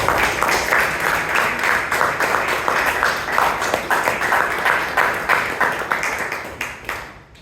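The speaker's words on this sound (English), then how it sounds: "Come on, everyone, you can give him a bigger round of applause." Steady applause from a Toastmasters club meeting audience in Bangalore, dense and continuous for several seconds before tapering off to a few scattered claps at the end.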